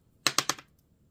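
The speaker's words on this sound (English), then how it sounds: "This week we roll the dice." Dice rolled for a low-budget savings game clatter in three quick, sharp clacks, close and clear, then stop into silence with no talk.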